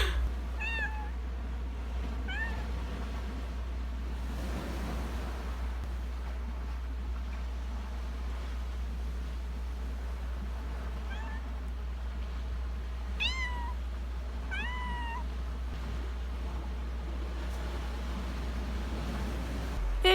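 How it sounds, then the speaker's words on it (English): A cat meows several times in short, separate calls, a couple near the start and a cluster midway, fairly close and clear over a steady low background hum. "There's the cat."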